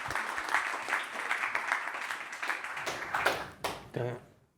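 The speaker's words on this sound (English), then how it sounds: "Can we have a big round of applause?" An audience at a deeptech forum applauds, a dense run of clapping held at an even level for several seconds before it thins out and stops, with voices heard speaking near the end.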